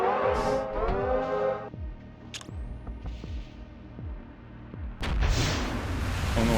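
A tier 2 storm cannon in the space game Void War fires in a rapid series of deep, punchy thuds with falling tails, framed by brighter bursts at the start and a loud blast near the end.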